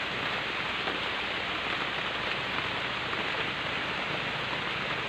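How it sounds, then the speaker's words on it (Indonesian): Rain falls steadily during a fishing trip, a dense, even hiss of drops hitting surfaces nearby that holds constant throughout. "Hujan ini guys."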